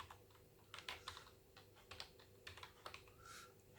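Typing on a computer keyboard, with soft, quick key clicks in short irregular bursts, close by but quiet.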